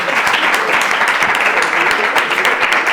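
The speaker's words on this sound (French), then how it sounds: "est-ce qu'on peut les applaudir encore fort?" A studio audience at a televised show claps loudly and continuously, with a thick, even wash of many hands close by and no pauses.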